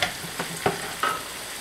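Flour being stirred through frying minced meat with a little fat for cottage pie, giving a few soft scraping stirs over a faint sizzle, close and quiet.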